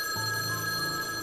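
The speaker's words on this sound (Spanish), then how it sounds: "el teléfono sonó." An old-fashioned telephone bell rings steadily and close up, a bright metallic trill with a sustained tone over faint background hiss.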